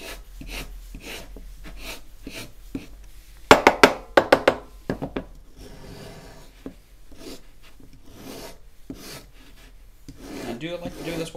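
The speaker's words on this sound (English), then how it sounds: "I'm just going to round the corners, just bevel them a little bit for you know, strength reasons" Soft, freshly set plaster sprig mold having its corners rasped and bevelled, a run of dry scraping strokes, with a louder burst of short rhythmic rasps midway and quieter rubbing before and after.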